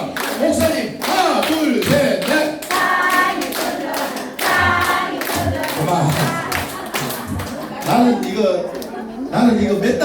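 A group claps hands together in rhythmic bursts at a laughter session held at a care hospital, with loud close clapping breaking into patterned beats while someone speaks and counts over it.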